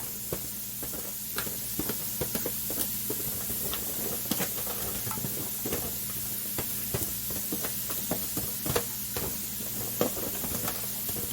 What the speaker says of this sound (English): So we're gonna saute our vegetable. Just saute it on a medium heat.